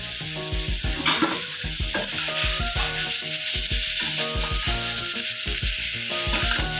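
Boiled potatoes sautéing in masala over a low flame, with a constant close sizzle and regular clanking scrapes of a metal spoon stirring against the pan.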